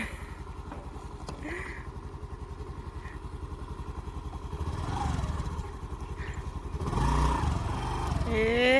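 A stuck scooter's small engine drones steadily and revs harder in surges, with raised voices and shouting over it, nearby and loud.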